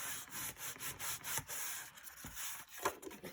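A tool rubs firmly along a folded paper flap on a mini album cover, pressing it flat in short back-and-forth scraping strokes, close and fairly quiet with no voices.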